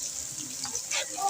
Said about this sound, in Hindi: इसे अच्छे से फ्राई कर देंगे।